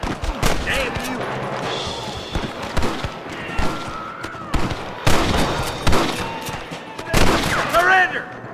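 Repeated gunshots in a Red Dead Redemption shootout with rustler guards, loud sharp cracks fired in irregular clusters with ringing echoes, mixed with shouting voices and game noise.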